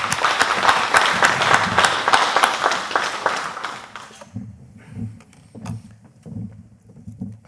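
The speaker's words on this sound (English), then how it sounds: "Let's give them a round of applause." Summit audience applauding, a dense burst of clapping for about four seconds that then thins to a few scattered claps and low room noise.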